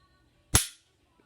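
A Glock 34 pistol's trigger gives one sharp, close dry click, loud and brief, that fades quickly into silence.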